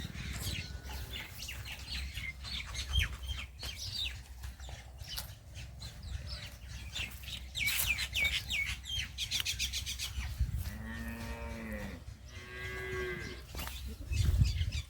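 Cows on a farm give loud, drawn-out moos late on, over a steady low rumble, with birds chirping and tweeting throughout.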